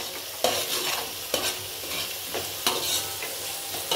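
Steady sizzling of tamarind frying in a hot oil tempering for fish sambar, with periodic scraping clicks from a spoon stirring the pan about once a second.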